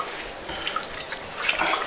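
Water is poured and rubbed over the fingers and into the nails during ritual wudhu washing with a small amount of water, heard as a brief, soft splashing and trickling close by.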